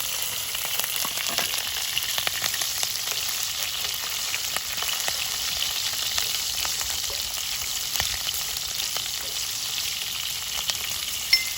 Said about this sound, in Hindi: अब ध्यान से सारी मिर्चें आप डाल दें इसमें और थोड़ा सा पीछे रहें, वरना ये उछलती ही बहुत है।